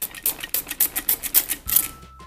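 A spray bottle of water fires a quick series of about ten hissing spritzes in a brisk, uneven rhythm, close up.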